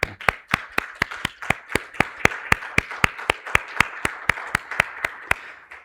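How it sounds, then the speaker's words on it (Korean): Church congregation clapping together during a Korean Sunday worship service, a steady rhythmic beat of about twenty sharp claps, close and fairly loud, with no talking. "박수하시겠습니다."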